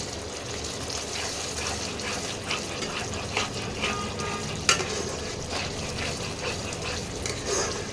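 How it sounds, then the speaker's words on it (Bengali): Spice masala frying in oil for potol paneer, a steady close sizzle with stirring and scraping through the whole stretch, one sharp clink midway, no speech. "এইবারে মশলাটাকে ভালো করে কষাতে হবে যতক্ষণ না তেল ছাড়ে।"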